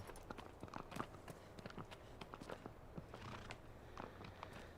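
Soft, steady hoofbeats of a horse in the video game Shadow of the Colossus clop in a quick rhythm, faint and somewhat distant, with no talking.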